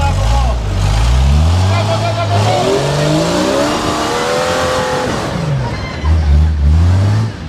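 A rock crawler's engine revs on a rocky trail in repeated rising and falling bursts, loud and close, while people talk and shout over it.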